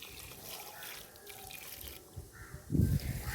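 Water trickles and splashes faintly while plants are watered outdoors on a sunny morning, a soft wash of flowing sound growing slightly louder near the end.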